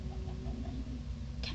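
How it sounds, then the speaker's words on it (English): Chickens in a video game while a zoo is being built, heard as a steady loud run of soft rhythmic clucks and patter over a low hum, with a brief brighter sound near the end. "and then there's chickens."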